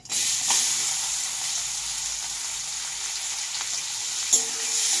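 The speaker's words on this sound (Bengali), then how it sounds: "এটা আমি ভালোভাবে ভাজবো, ওই তেলেই আমি কিন্তু করছি।" Chopped onion frying in the oil left from bottle gourd, a steady bright sizzle with a few utensil scrapes and clinks, no one speaking.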